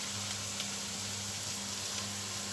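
Onions sizzling in a hot pan with ginger for a home-cooked dish, a steady close crackling fry with a faint low hum underneath and no talking.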